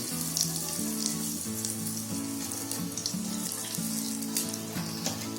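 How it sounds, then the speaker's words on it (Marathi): Asafoetida dropped into hot oil for spicy Diwali mini shankarpali dough, sizzling and crackling steadily and loudly throughout, close up, over a repeating background melody with no speech. "तेल गरम करून आणलंय, त्याच्यामध्ये हिंग टाकते."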